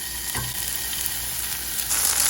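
Onions hit hot olive oil with red chili peppers in a pan, producing a loud, close, continuous hissing sizzle that swells briefly near the end, with no voices.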